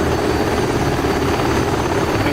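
A SH-60 Seahawk helicopter hovers in the DCS World flight simulator, its rotor a loud, steady, close whirring drone throughout.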